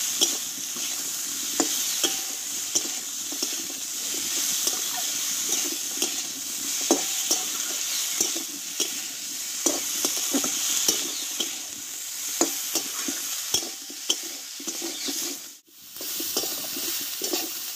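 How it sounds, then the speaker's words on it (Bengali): Spices, potato and drumstick are stir-fried in a pan along with fried lentil dumplings. A continuous, fairly soft sizzle runs under repeated scraping strokes of a spatula, with no voices. "মশলার সঙ্গে আলু ডাঁটাটা ভালোভাবে কষিয়ে নিয়েছি"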